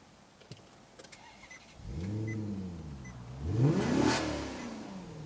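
A 2009 Maserati GranTurismo convertible's engine rises from quiet to a swelling rev, then a second louder rev, close by with no talking.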